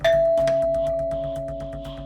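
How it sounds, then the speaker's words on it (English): A doorbell chime rings at home, a sustained bright tone ringing out and slowly decaying over two seconds, loud and alone with no talk. "the doorbell rings."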